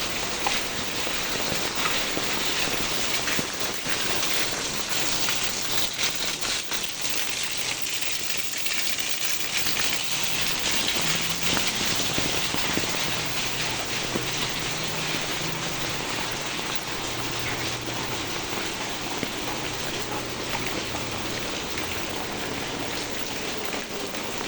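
Heavy, steady rain pouring down during Typhoon Carina, a dense continuous hiss of drops hitting surfaces with no letup, close and enveloping.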